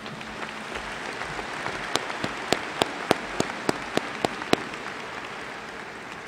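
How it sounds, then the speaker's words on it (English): Audience at a 2014 Springdale High School graduation applauds an a cappella choir; the clapping forms a distant, hissing wash with a run of sharp, regular claps from someone close by. "Let's show a round of applause again for our wonderful Acapella choir."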